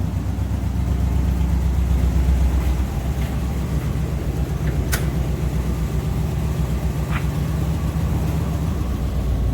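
A 1964 Chevrolet Impala SS clone with a small-block V8 and four-speed idles steadily nearby. Its loud, even low rumble continues without a break and with no talk.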